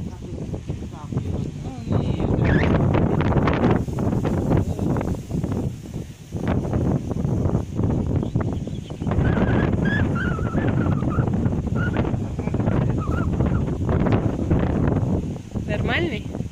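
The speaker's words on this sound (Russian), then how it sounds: "Ветер у нас, конечно." Steady gusting wind buffets the microphone throughout while people talk over it.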